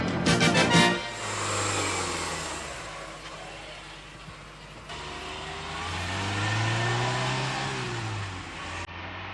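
A Peugeot 205 CT cabriolet with a 1360 cc, 80 hp engine and five-speed gearbox accelerates, its engine note rising, dropping at a gear change and climbing again, loud and close.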